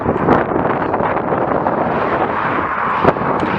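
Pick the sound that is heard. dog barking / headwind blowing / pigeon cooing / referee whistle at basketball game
headwind blowing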